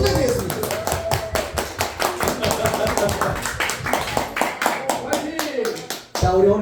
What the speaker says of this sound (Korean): 한 번 더 격려의 박수 한 번 더 부탁드리겠습니다